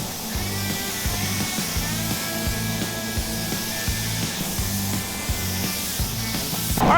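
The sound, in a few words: spray gun painting red base coat on Jeep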